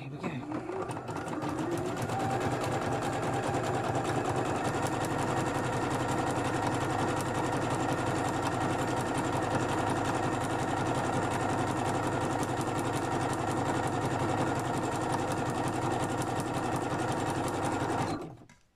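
A sewing machine stitches steadily and loudly for a long stretch with a fast, even mechanical rhythm, then stops.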